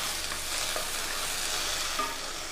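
Onions with curry leaves sauté in a pan for pirandai chutney, giving a steady close sizzle broken by soft scraping stirs, with no voices.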